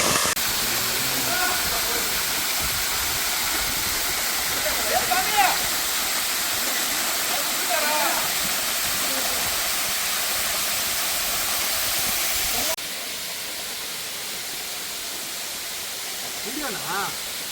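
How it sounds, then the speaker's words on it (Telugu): A waterfall near Tirupati pours with a constant broad rushing hiss that stays loud throughout, while voices talk over it. "తిరుపతిలో చాలా అద్భుతమైనటువంటి వాటర్ ఫాల్ ఇది"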